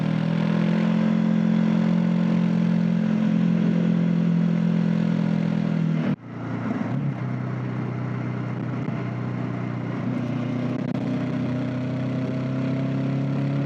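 Continuous engine drone and wind of a Honda NX500 motorcycle being ridden, loud and steady with a brief dip partway through as the tone shifts, then resuming.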